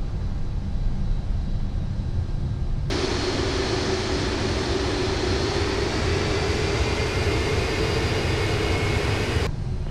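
Engines of a Cargolux Boeing 747-8F in Microsoft Flight Simulator hold a steady low jet roar before takeoff, with a brighter, louder whine cutting in partway through, sustained for several seconds, then dropping back.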